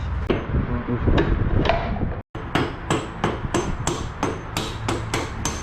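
Hammer striking repeatedly during leak-repair work, a series of sharp, evenly paced close blows that speed up after a brief pause, with some talk in the background.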